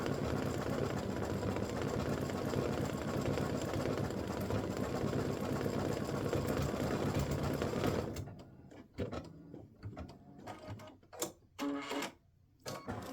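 An embroidery machine stitching black thread runs in a dense, steady mechanical whir for about eight seconds, then falls to sparse, quieter clicks and pauses; no one talks.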